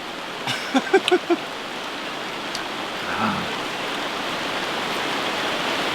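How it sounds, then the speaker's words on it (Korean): Steady rain falls outdoors on a rainy day during a countryside meal, a dense even hiss with a few close clinks and bumps near the start and no talking. "비도 구질구질하게 오고 이거 시원하게 오네"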